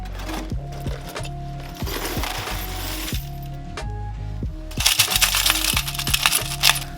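Saved metal hardware rattles and clinks inside a metal strainer as it is shaken, with dense, bright jingling that swells louder and busier toward the end.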